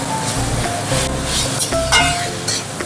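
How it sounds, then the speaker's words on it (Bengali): Fried soybeans are stirred into sizzling masala in a pan for a chana dal dish, with a steady sizzle under scraping of the spoon and a few light metallic clinks. "সয়াবিনটা দিয়েও একটু বেশ ভালো মতন করে নাড়াচাড়া করে নেবো, যাতে সয়াবিনের ভেতরে মশলাগুলো ঢুকে যায়।"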